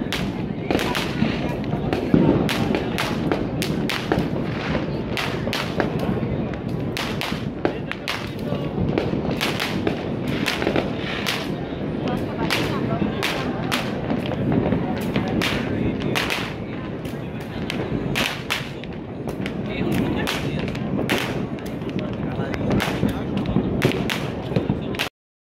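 New Year fireworks in Mauritius crackle and pop continuously, with sharp bangs and thuds at varied distances over a dense, steady roar of bursts, while voices of a crowd murmur underneath.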